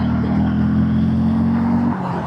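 A Hero Hunk 440 motorcycle engine pulls hard in third gear on a downhill dual carriageway, a steady, loud droning note that climbs evenly before easing off near the end.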